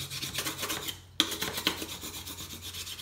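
A wooden sushi rice spoon rubs with firm pressure over thin paper during hand printing, making a steady close scratchy rasp of rhythmic strokes, broken by a brief pause and a sharp scrape, over a low background hum.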